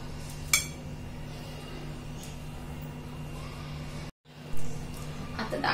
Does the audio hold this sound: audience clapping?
no